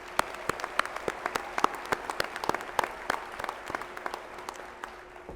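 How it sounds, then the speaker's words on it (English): Graduation ceremony audience applauding in a large hall: scattered, distinct claps over a soft sustained wash, fairly distant and moderate in level, thinning gradually toward the end. "Give yourself a round of applause."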